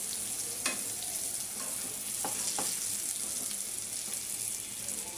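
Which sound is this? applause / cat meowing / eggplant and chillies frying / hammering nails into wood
eggplant and chillies frying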